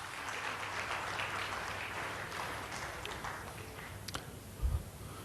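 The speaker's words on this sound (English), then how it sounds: "I think this deserves a round of applause" Faint, distant applause from an audience at a Lagos tech event, a soft continuous patter of clapping heard from afar with a couple of brief louder knocks near the end.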